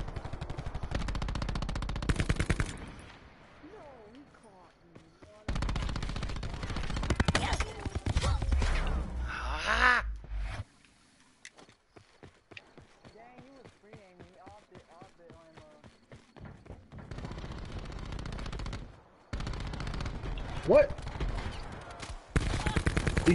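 Shotgun fire in Call of Duty Black Ops Blackout, loud blasts in several dense clusters separated by quieter stretches where players talk.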